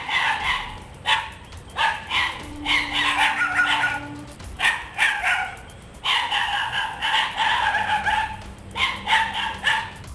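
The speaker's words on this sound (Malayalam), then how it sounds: "പിന്നെ നേരും പുലരും വരെ കുരയും കടിപിടിയും ബഹളവും" A pack of stray dogs barking at night on a house terrace in Varkala, Thiruvananthapuram, with repeated overlapping barks and yelps in irregular bursts, fairly close and loud throughout.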